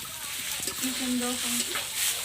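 Chicken curry, village style, is stirred and sautéed in a hot pan. A steady close sizzle runs under short scraping strokes of the spoon against the pan.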